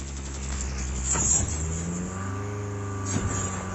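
Four-seat vehicle driving in Call of Duty: a steady engine drone with rising and shifting pitch as it accelerates, close and continuous, with a couple of brief clunks over the hum.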